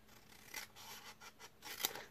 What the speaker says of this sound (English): on the end here, we're going to cut away this tab.